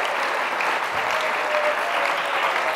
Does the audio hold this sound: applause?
yes